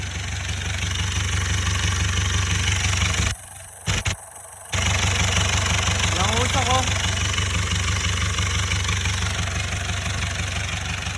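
Mercedes-Benz C240 car engine idling steadily with a low, even hum, briefly cut out once, while someone talks over it.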